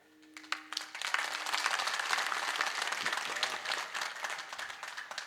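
A crowd claps at a comic kirtan, the sound starting with a few scattered claps, then swelling into sustained, fairly distant applause that gradually thins toward the end.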